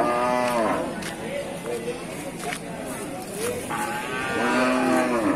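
Buffalo low repeatedly at a busy livestock market, several drawn-out moos close by under a steady crowd murmur and people talking.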